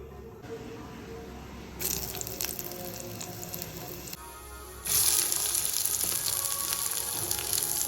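Mustard seeds fry in hot oil in a pan, a steady hiss that swells into louder, denser sizzling and popping partway through, with no talking.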